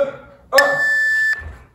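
A single bright electronic beep sounds loud and steady for under a second during a plank exercise in a bodyweight workout.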